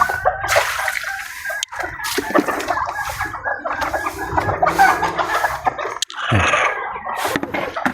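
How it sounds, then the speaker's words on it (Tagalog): Bantam chickens clucking close by in a backyard coop, a busy run of repeated clucks and murmurs with some splashing or shuffling mixed in. "Ito yung aking manok mga kudya na naglilim mga kudya. Ayan. Ang bantam."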